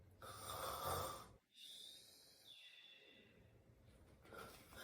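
Snoring from a read-aloud dinosaur story about a T-Rex and friends asleep, a soft snore with a drawn breath and a rising whistle-like tone, quiet and close, likely a voice imitating the sound.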